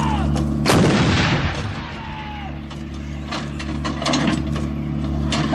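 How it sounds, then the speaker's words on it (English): An artillery gun with an automatic loading system fires, a loud close blast near the start followed by mechanical clanking and ratcheting of the loader cycling, with further thuds and rattles afterward. "The gun will now fire 3 rounds in area diamond"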